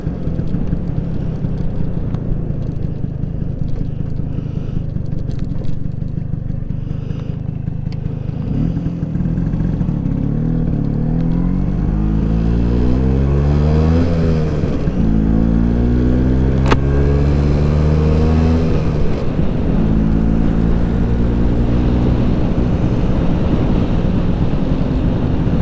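A 1979 Vespa scooter on the road, its small engine droning and revving up through the gears in repeated rising sweeps, heard from the rider's position with steady wind rush and no talk.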